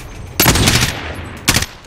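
Two short bursts of rapid automatic gunfire from the video game Warzone ring out, the first longer, the second brief, against a quiet background.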